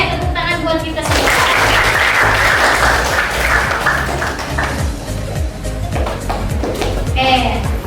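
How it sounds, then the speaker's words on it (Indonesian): Loud group applause breaks out in a classroom, sustained hand clapping from many people for several seconds, with voices and chatter mixed through and a speaking voice near the end. "tepuk tangan buat kita semua"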